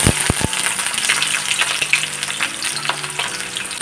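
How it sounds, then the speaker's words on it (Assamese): Onions sizzle in hot oil in a kadai, a steady crackling fry close up with a few sharp clicks from the pan at the start and no voices. "ইয়াত মই এতিয়া পিঁয়াজখিনি ঢালি দিম।"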